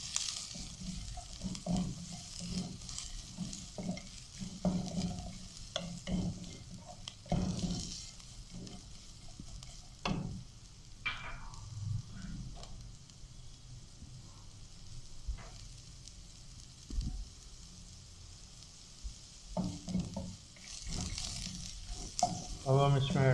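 Carrots stir-fry in a pan for Singapore-style rice, a soft background sizzle under repeated spatula scrapes and knocks that come in irregular bursts, with a faint voice now and then.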